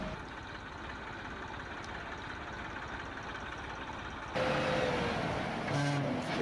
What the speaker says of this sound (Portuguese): caminhões emparelhados, um vai sair e o outro vai entrar. E aqui as máquinas estão chegando para colocar o silo aqui.